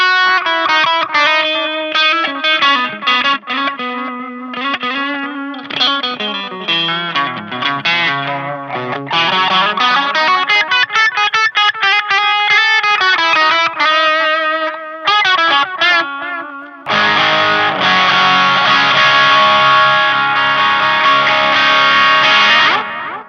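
Electric guitar through a Collateral FX Unchained overdrive pedal in a Marshall-style voicing, a continuous driven riff of gritty chords and single notes, then a thicker, harder-strummed passage near the end, loud and unaccompanied.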